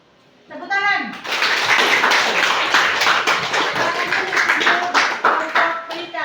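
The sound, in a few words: applause in a classroom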